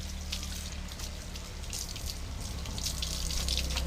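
Water runs steadily from a tap, a constant splashing rush at moderate volume, with a low hum underneath and no voices.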